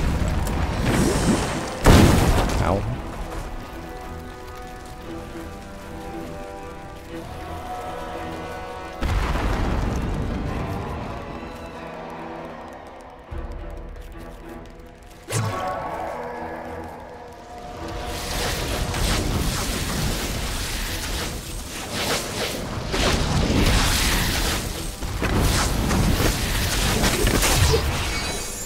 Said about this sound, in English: Just a lot of explosions.